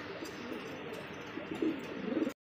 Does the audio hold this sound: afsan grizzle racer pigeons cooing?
yes